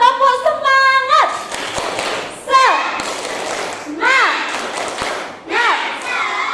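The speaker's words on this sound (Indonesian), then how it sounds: "Biar lebih semangat, kita tepuk semangat dulu ya." A classroom of children performs a rhythmic spirit clap led by a teacher, with bursts of sharp claps and taps mixed with chanting voices and shouts; the group sound is close and lively, and children and an adult can be heard vocalising throughout.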